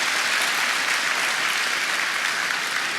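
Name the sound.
audience applause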